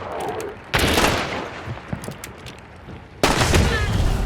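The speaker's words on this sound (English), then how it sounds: "some quick footwork and a really nicely placed headshot saved the day" Gunfire in the first-person shooter Hunt: Showdown during a headshot kill: sharp, loud reports burst out at two points, the second a sustained blast, over busy game noise with smaller impacts between.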